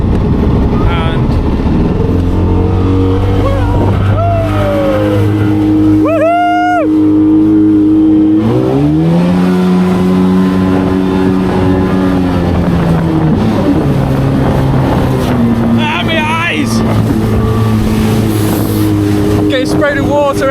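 A jet ski rides out on the sea in Vietnam, its engine droning loudly and changing pitch as it speeds up and slows down, with wind buffeting the microphone and people talking over it.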